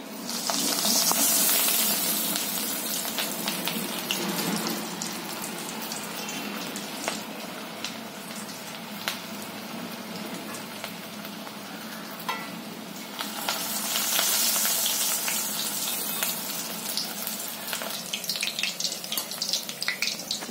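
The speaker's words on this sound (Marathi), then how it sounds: "तर मी ना रोल ना तळून घेते" Bread rolls with a spongy bread coating deep-fry in hot oil, a steady, close, dense sizzle and crackle running throughout, swelling louder near the start and again around the middle.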